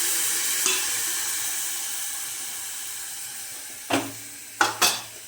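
Masala frying in oil keeps up a steady sizzle as peas go into the pan, with a few sharp stirring scrapes and clatters near the end; no one speaks.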